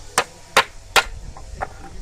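Chisel strikes cutting through wood while shaping a crossbow prototype: three sharp, evenly spaced hits followed by two softer taps, close and crisp with no talk.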